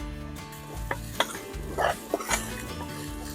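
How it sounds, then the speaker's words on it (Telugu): Masala spices of chilli powder, salt, coriander powder and turmeric deep frying in oil in a pan, a soft sizzle with scraping and stirring clinks and bumps over steady background noise. "ఓకే, మనకు మసాలా మొత్తం అంతా డీప్ ఫ్రై అయిపోయింది"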